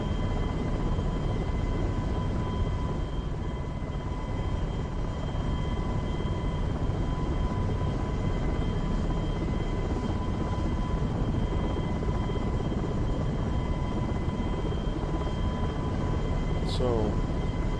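A training helicopter taxis on the ground like an airplane, its engine and rotor making a loud, steady drone with a constant whine throughout, close and unbroken.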